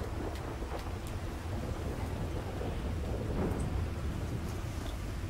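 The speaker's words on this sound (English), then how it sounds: "There's a thunderstorm a-brewing" A thunderstorm rages in Grand Theft Auto V, with a steady roar of rain and wind and low rumbling thunder throughout, broad and continuous with no voices.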